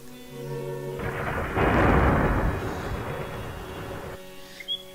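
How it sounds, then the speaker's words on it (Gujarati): A thunderstorm sound effect brings a deep rolling thunder rumble that swells loud for about three seconds over a backdrop of rain, then fades out, with a faint music bed around it. "એટલો વરસાદ છે, એટલો વરસાદ છે"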